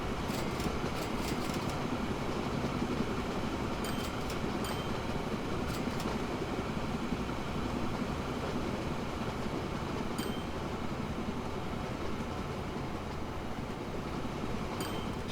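A TGV high-speed train runs steadily in the Train Fever simulation game, a continuous even rumble and rush of rail noise without pause, with a few faint clicks above it.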